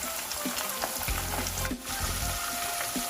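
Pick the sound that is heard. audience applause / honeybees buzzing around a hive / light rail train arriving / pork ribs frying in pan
pork ribs frying in pan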